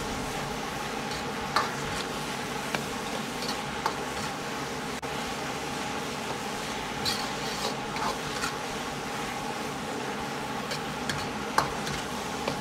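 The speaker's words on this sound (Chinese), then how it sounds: "翻炒均匀，炒出清香味。" Oyster mushrooms stir-fried with green and red peppers in a wok over high heat, with a steady soft sizzle and scattered light scraping clicks from the spatula, close and continuous with no talking.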